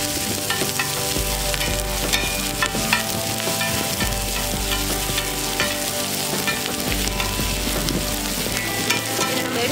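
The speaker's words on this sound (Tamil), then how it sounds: "கறியை ஃப்ரை பண்ணுறதுக்கு கொஞ்சம் வெங்காயம், பச்சை மிளகாய், எல்லாத்தையும் நல்லா வதக்கி" Onions and green chillies fry in hot oil as the base for a mutton curry, a loud, continuous sizzle with stirring scrapes throughout, heard close.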